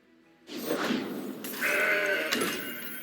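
Goat card played in a digital card game, answered by a loud, close, wavering bleat lasting a couple of seconds, alone with no talking.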